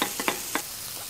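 Pineapple fries in a pan with a close, bright hiss, punctuated by three or four soft stirring clicks in quick succession.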